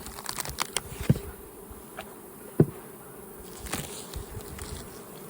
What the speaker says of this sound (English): Boxes of bees.